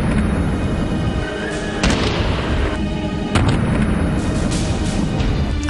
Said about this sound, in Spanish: Siguen escuchándose detonaciones, pero nadie identifica de dónde provienen.